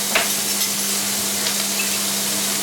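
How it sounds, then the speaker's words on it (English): Onions fry in a pan for chicken cacciatore while being stirred and broken into rings, a loud continuous sizzle with faint scraping of the utensil and a steady hum underneath. "So I use this opportunity to break up the onions into their rings."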